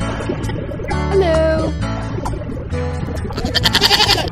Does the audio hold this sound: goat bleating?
yes